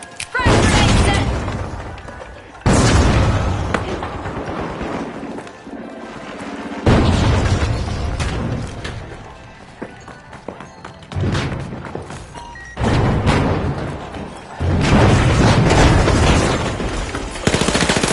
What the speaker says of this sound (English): Frag out. Frag grenade set.